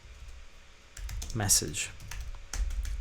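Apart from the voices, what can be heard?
computer keyboard typing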